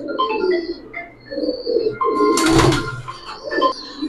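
Pigeons coo in soft repeated throaty phrases close by, with a brief clatter midway and some background bustle, and no speech.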